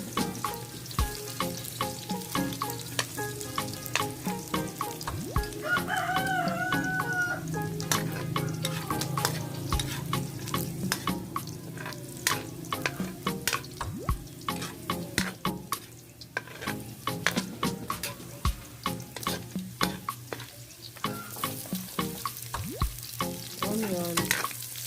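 Garlic sizzles and crackles steadily in a hot pan for chopsuey in the Philippines, with frequent scraping and stirring clicks from a utensil, close and continuous throughout.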